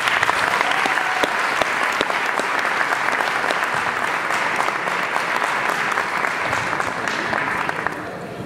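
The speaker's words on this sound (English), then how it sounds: "Please, a warm round of applause for Admir." A conference audience at OPEN Fest applauds warmly and steadily for about eight seconds, a dense wash of clapping that tapers slightly at the end.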